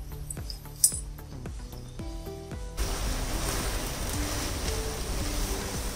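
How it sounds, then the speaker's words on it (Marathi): Water poured into a pan of Kolhapuri-style whole masoor curry: a few light clinks first, then a steady, close rushing splash that continues to the end. "अजून थोडंसं घालूया पाणी."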